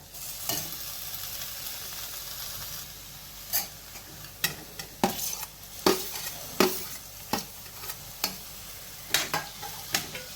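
Onion and tomato sauté in a pan over a raised flame, giving a steady soft sizzle broken by sharp clicks and scrapes of a spoon stirring against the metal, with no voices.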